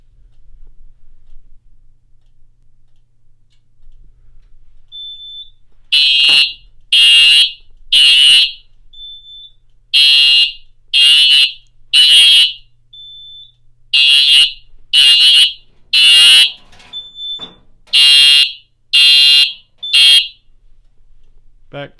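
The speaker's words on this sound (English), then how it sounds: "I will use some of my Smoke Centurion spray to activate this true alarm." A fire alarm system, set off by smoke test spray, blares in loud, evenly spaced bursts of harsh horn tones, each separated by a brief gap, after a quiet start.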